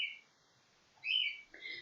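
Birds chirp outdoors in a few short, faint, high calls separated by quiet gaps.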